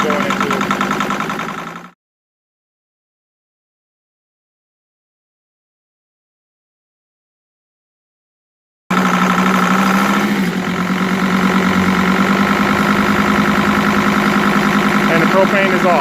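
A 2005 Sprinter engine idling on propane, loud and steady at close range, running for about two seconds, then a long silent gap before the idle resumes and holds through to the end.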